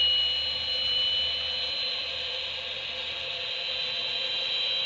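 A continuous high-pitched whine and roar of a hot model jet turbine engine running steadily at full power, with no talking.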